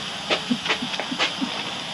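Steam hisses from a depressurizing cooker as a constant airy rush, with a few brief clicks and soft knocks on top, fairly close.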